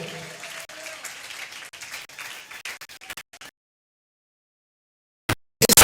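A church congregation applauding during a Sunday worship service, a crowd's clapping at a steady moderate level that thins into scattered claps and cuts out, with a few sharp claps returning at the end.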